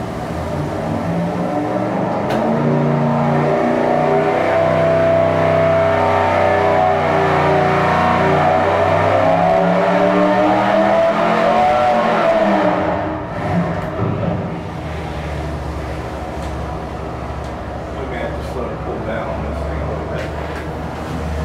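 A Chrysler MOPAR 318 stroker V8 on a dyno runs a loud, sustained pull, its engine tone climbing steadily for about twelve seconds before dropping back to a lower, steady drone.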